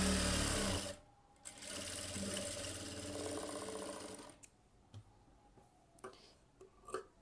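A sewing machine stitches a blouse, whirring in two close, steady bursts of rapid needle rattle, then stopping and leaving a few scattered clicks and taps.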